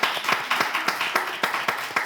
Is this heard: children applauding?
yes